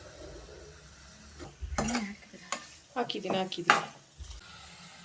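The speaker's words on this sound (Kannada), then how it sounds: "ಸೊ ಇವಾಗ ಇದು ಫ್ರೈ ಆಗ್ತಾ ಇದೆ." Food frying in a little oil in a pan, with soft sizzling and bursts of stirring and scraping against the pan, irregular and close, as a person briefly speaks.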